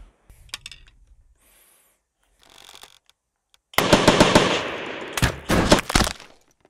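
Pistol fire in a virtual reality shooting drill: scattered sharp cracks, then a dense loud burst of rapid shots and impacts with short pauses, close and without voices.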